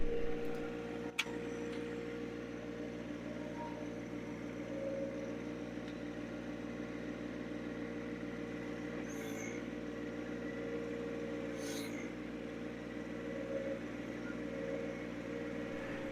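A subcompact tractor switched into four-wheel drive runs at a steady, moderate engine drone from start to finish, with no talking over it.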